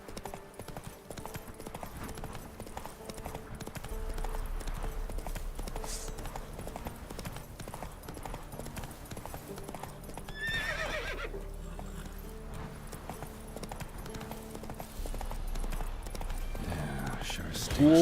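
Roach the horse gallops in The Witcher 3, hooves clip-clopping in a steady rhythm through the whole stretch, with a whinny partway and a voice talking over the game sounds.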